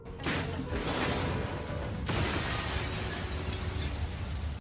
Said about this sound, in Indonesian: Kantor pun meledak.